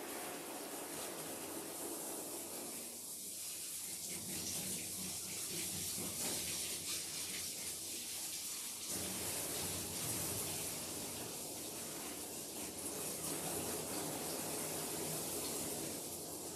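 A smooth-coated mixed-breed dog rinsed in a grooming tub, water spraying steadily with a hissing, splashing wash that runs continuously at a moderate level, changing slightly as the spray moves around the dog's ears and head.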